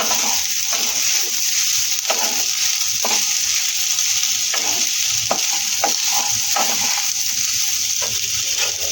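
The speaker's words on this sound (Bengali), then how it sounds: "আবার একটুখানি নেড়ে নেবো" Rice and a little powdered sugar stirred in a pot for soybean biryani, a continuous close sizzle with repeated scraping and knocking stir strokes at an irregular pace, no voices.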